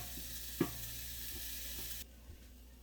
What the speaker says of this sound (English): put this lid on here and let these onions saute a bit